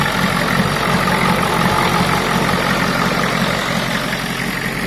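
A Ford diesel truck engine fitted with a new electric fuel pump idles steadily, a loud, continuous low rumble with an even mechanical churn and no change in pace throughout.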